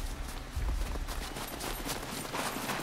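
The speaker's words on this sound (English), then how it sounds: "Shooting through the wall." Muffled gunfire shot through a wall in the survival video game SCUM, a dense rumbling fusillade of low thuddy shots heard at a distance, steady throughout without speech.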